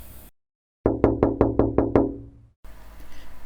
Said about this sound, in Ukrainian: постукав у двері